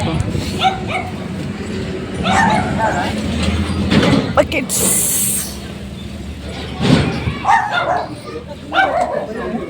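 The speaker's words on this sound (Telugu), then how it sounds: "వామ్మో కుక్కల్ని చూస్తుంటే నిజంగా భయం వేస్తుంది నాకు." Several dogs bark, yip and whimper in bursts at varied distances, while people talk over and between the calls.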